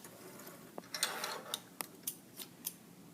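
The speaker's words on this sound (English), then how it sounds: "When you get to the end, backstitch, and then cut those threads." Scissors cut threads after a drawstring bag is sewn, giving a quiet series of crisp close snips and small clicks spaced irregularly in a still room.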